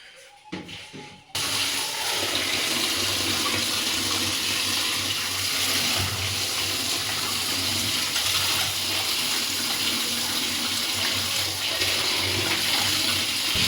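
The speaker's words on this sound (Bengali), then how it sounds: "শাকটা ভালোভাবে ধুয়ে নিই।" Tap water runs steadily and loudly while red amaranth greens are washed in a kitchen sink, a continuous close rushing splash after a brief quiet start, with no talking.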